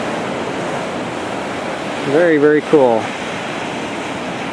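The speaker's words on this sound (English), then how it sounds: "Big waves out there." Big waves crash and surge on a lake beach in strong wind, a steady broadband wash with no distinct breaks, while someone speaks briefly over it midway.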